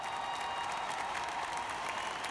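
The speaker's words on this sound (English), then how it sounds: "To a raucous applause from the crowd." A large crowd at a Red Bull Flugtag homemade-aircraft event claps and cheers steadily from a distance, a continuous wash of applause without pause.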